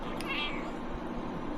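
A house cat gives a single faint, short meow against a steady low background hum.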